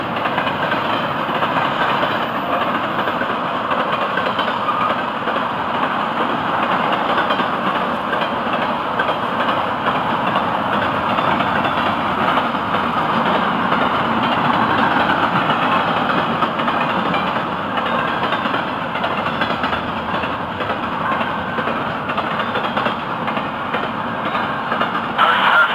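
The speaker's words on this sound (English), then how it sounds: "There's a pair of beauty rests on this train, coming right here toward us in this sunbeam" A train rumbles steadily with a low, continuous engine drone, holding at a fairly even loudness throughout with no voices.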